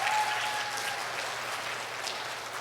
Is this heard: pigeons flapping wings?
no